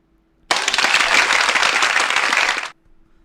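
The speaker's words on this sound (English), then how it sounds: "we're all going to clap, and we're going to put our hands together for the first one" A burst of enthusiastic hand clapping and applause erupts suddenly, loud and dense for about two seconds before cutting off abruptly into near silence.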